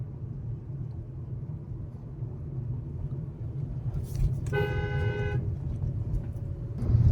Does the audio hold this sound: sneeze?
no